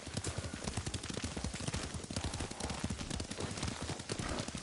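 A horse ridden in the video game Ghost of Tsushima produces rapid, steady hoofbeats in a continuous galloping rhythm, close and dense, without a break throughout.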